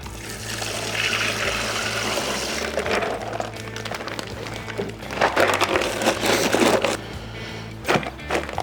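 Liquid brine poured into a bag set inside a cooler for brining a Cajun-style Thanksgiving turkey, a continuous splashing trickle with plastic rustling and a few sharp knocks, close and fairly quiet.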